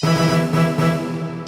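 A phone ringtone plays a steady, buzzing melodic tune with a pulsing rhythm, close and fairly loud for about a second and a half with no talking over it.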